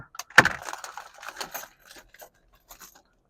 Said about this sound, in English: I got some keys.